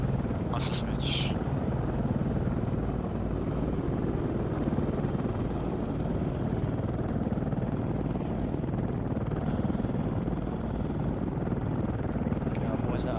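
A friendly helicopter flies close by, its steady, loud rotor and engine roar filling the whole stretch without a break, with faint voices at moments under the noise.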